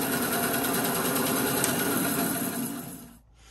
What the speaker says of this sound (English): Okay, so back at the lathe